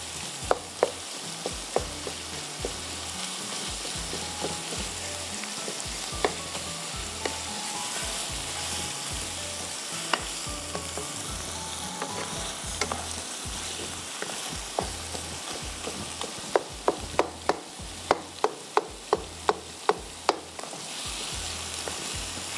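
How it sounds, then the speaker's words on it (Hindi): Beef mince fries in a pan with steady broadband sizzle, punctuated by sharp clicks and taps of a spoon stirring, with a quick cluster of taps near the end; close and fairly loud, no talk. "मसाले जब तक कीमा भून रहा है"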